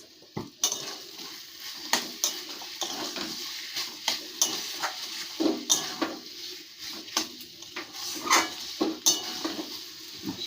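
A spoon stirring and scraping food in a metal kadai during cooking, with irregular clinks and scrapes of metal on metal over a faint sizzle, fairly close and without talk.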